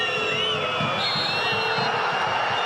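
Fans at Apollon Limassol's ground howl at the referee during a 2017-18 Europa League match against Aberdeen, a loud, sustained roar of whistles and jeers from a big stadium crowd under a commentator's voice.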